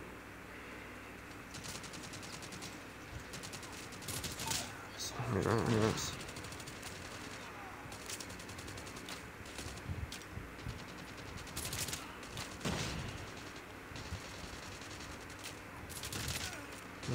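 Rapid bursts of automatic gunfire crackle in short volleys over a noisy Call of Duty: Mobile soundscape, while a voice speaks briefly.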